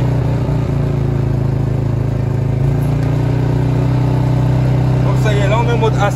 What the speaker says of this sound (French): Donc le moteur est démarré, il est remis en position de démarrage.